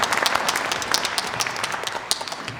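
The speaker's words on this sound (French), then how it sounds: "Gino sous vos applaudissements" A cabaret audience gives Gino a round of applause, a full, even burst of many hands clapping close and loud, with a few sharper individual claps standing out.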